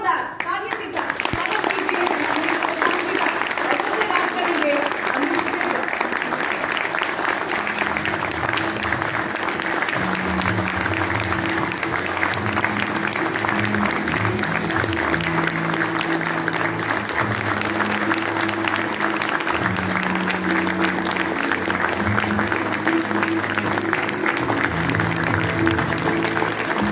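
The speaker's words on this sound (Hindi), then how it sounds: "जोरदार तालियों के साथ" A large audience at a televised political event in a Delhi hotel ballroom bursts into sustained, loud applause, dense clapping continuing steadily with music and a voice faintly underneath.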